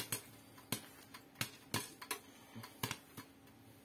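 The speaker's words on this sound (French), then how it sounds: "je laisse se terminer tout doucement la cuisson des derniers grains" The last popcorn kernels pop one by one inside a covered pan as cooking winds down, sharp, sparse cracks spaced irregularly against a quiet background.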